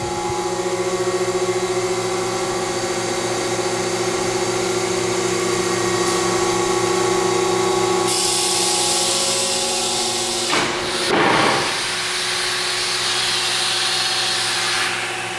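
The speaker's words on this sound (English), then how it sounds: "As it's spinning your material, it's going to feed another piece onto your work platform." An Onsrud 36210 inverted pin router with an RS24 autofeeder runs with a loud, continuous motor hum and steady tonal whine, shifting partway through, then a brief burst of cutting noise as material feeds, with no speech.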